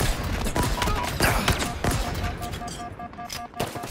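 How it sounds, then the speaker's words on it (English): Heavy weapon fire in Halo Infinite, a shotgun-style gun loosed in repeated loud blasts with busy combat noise filling the gaps. "What is this, like a shotgun?"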